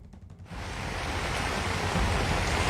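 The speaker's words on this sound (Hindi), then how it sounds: "यहाँ आप देखिए बहुत तेज बारिश हो रही है" Heavy rain pours on a market street, a dense, loud hiss that swells in after a brief quieter moment and holds steady throughout, with no voices audible.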